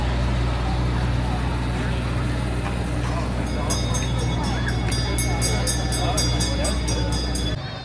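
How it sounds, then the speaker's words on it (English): Rumbling fairground train ride at the Eastern States Exposition, steady low drone and clattering, joined midway by a regular series of sharp high clicks, crowd chatter underneath throughout. "Let's hop aboard the roaming railroad here and get a train's eye view of the fair."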